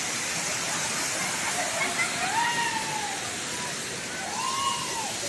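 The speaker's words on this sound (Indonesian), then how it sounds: "Kita nikmati pancuran" Waterfall at Curug Cilember in Bogor, West Java: a steady, loud broadband rush of falling water fills the whole clip, with faint voices of people nearby underneath.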